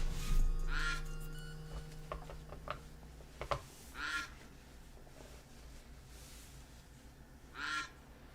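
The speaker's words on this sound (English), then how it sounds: "I just keep hearing these ducks." Several ducks quack in separate short bursts, spaced a few seconds apart, against a low steady background hum during a card sale, with no talk.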